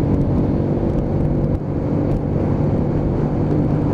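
A Keeway K-Light motorcycle carrying speed on a road ride, with a steady loud engine drone and wind rush that stays constant, no voices over it.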